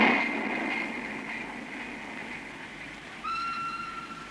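A train approaches in a scene from a Satyajit Ray film, a soft distant rumble that fades slightly before a clear, tonal whistle sounds near the end.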